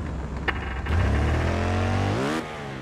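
A motorbike engine in the game Trials Fusion revs up from idle to a rising, sustained whine that climbs steadily in pitch, then drops back as the throttle eases, close and loud with no talk.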